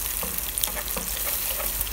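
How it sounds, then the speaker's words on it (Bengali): Egg broken into small pieces and fried with vegetables for Malaysian nasi goreng ayam, a steady close sizzle with scraping stirring strokes throughout, no voices. "ডিমটা এখন একদমই ছোটো ছোটো করে টুকরা করে ভেজে নিব।"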